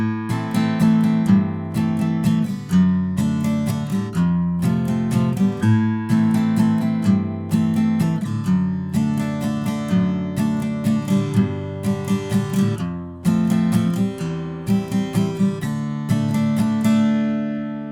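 Guitar strumming the interlude chords of a song, with a steady rhythm of full, ringing chord strokes that play up close, alone and without any voice.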